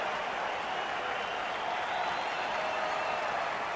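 Steady, dense roar of an arena crowd cheering in the NHL 21 hockey video game, Anaheim Ducks vs Calgary Flames, continuous and loud throughout with no speech.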